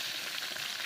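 Stuffed eggplants and potatoes frying in hot oil with cumin, asafoetida and turmeric for Gujarati bharela ringna shaak, a steady dense sizzle close by with no voices.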